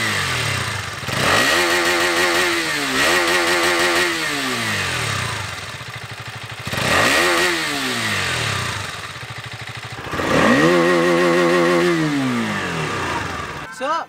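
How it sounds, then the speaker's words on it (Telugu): A 2023 KTM Duke 250 BS6 motorcycle starts up close by and revs hard three times, each rise climbing and falling back to a throaty idle between blips. "సో మనం బండి ఒకసారి స్టార్ట్ చేసి దీని సౌండ్ విందాం."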